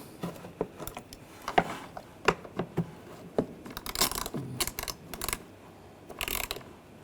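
A ratchet tightens ignition coil bolts on a 2009–2010 BMW 535i xDrive 3.0L inline-six, giving close, sharp clicks in short irregular bursts with brief gaps between them.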